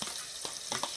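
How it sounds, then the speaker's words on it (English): Beaten eggs poured into a hot pan during village home cooking, a brief wet hiss and sizzle with a splashy pour, close and fairly loud. "I'm pouring my eggs here"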